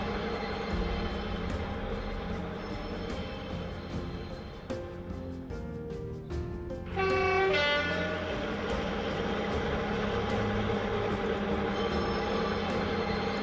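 A train runs along the rails toward docks north of Blackpool, making a continuous rumble with rhythmic clicks from the track and a brief horn-like tone partway through, steady and fairly close.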